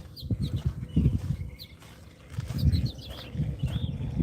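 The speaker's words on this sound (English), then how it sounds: "You hear the birds?" Small birds in the desert chirp in short, scattered calls over a low rumble of background noise after rain, fairly faint and at a moderate distance, repeating irregularly throughout.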